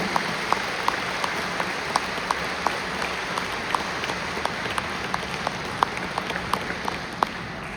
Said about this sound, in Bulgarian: Мисля, че ще получите аплодисментите на троянци, напълно заслужени